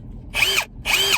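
Ryobi One+ 18V brushless hammer drill running in two short bursts, each a high whirring motor spin-up and wind-down, loud and close with a brief pause between.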